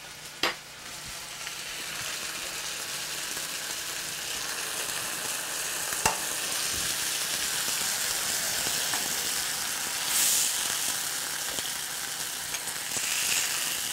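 A burger patty sizzles on a hot pan or griddle, a continuous crackling fry that stays steady and fairly close, punctuated by a few sharp clicks and scrapes.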